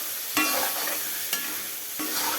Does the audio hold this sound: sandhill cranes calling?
no